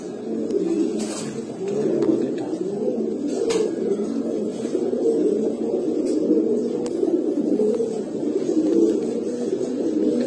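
Domestic pigeons, including Pankhi, Grizzle and Baghdadi Homa types kept for sale, coo in a steady rolling rhythm, close and alone.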